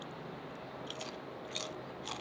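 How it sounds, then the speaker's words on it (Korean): Someone chews fried small crabs coated in sweet-spicy sauce, giving a few sharp, crisp crunches close to the mic over a quiet background. "그냥 다 씹히네. 너무 바삭해요 소리가."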